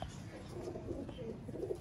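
Master Abdullah Sialkoti pigeons coo softly in their loft, a low, steady burble close by with a faint voice underneath.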